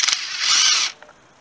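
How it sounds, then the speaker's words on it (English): A power tool whirs cylinder head bolts out of a VW Golf Mk2 engine, a brief high mechanical spin lasting under a second, close and fairly loud, followed by a couple of faint metallic clicks. "I'm just going to whiz the bolts out now"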